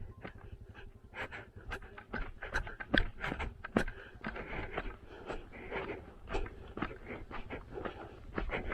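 A dog panting rapidly and audibly close by at a riverside sand resort in Satkosia, rhythmic quick breaths with occasional faint whimpers and scrapes, no talking.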